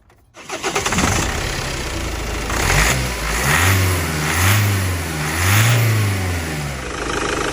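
A Vauxhall Movano van's diesel engine, suffering an exhaust pressure fault, cranks briefly and fires up, then revs in several rising and falling surges before settling, loud and close with no talk.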